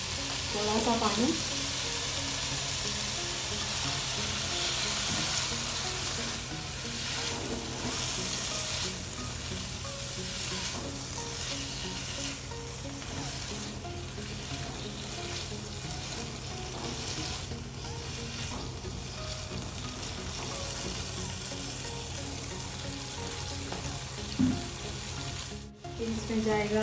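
Chicken pieces coated in ginger-garlic paste, masala and lemon juice fry in a pan with a steady close sizzle, occasional stirring scrapes and faint clatter, no talk.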